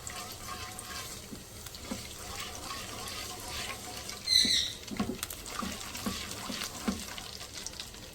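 Carom (ajwain) and nigella (kalonji) seeds fry in a pan of hot oil, giving a steady close crackle and patter with small pops scattered throughout and a slightly louder burst near the middle.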